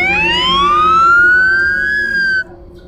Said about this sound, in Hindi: आपने देख लिया होगा कि कैसे मोबाइल का सायरन बजा है